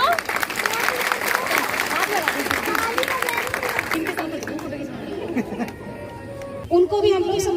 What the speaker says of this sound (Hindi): जितनी तालियां हो सकती हैं बजाओ बच्चों।